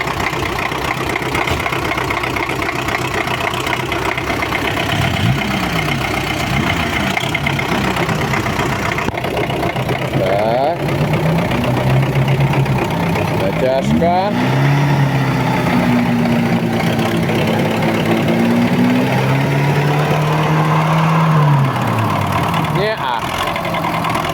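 Tractor engine idling and revving while the vehicle sits stuck on a rough track, a loud constant drone with pitch rises and falls, and people talk over it.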